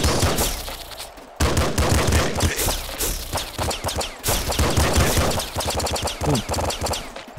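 Nuclear Throne video game combat with rapid, loud gunfire and explosive blasts in dense, overlapping bursts, broken by a brief pause before the shooting resumes with machine-gun rattle.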